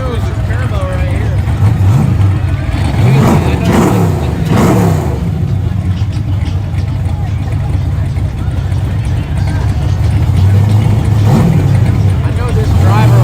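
A street racing car on a hood track accelerates with nitrous, its engine rising in repeated revving sweeps over a steady rumble, with crowd chatter and a voice talking over it throughout.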